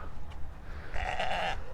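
A sheep in Puebla, Mexico gives a short nasal bleat near the end, a single wavering call over quiet outdoor background.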